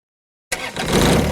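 A John Deere 1025R compact tractor engine cranks and catches after silence, quickly settling into a loud, broadband running rumble close by.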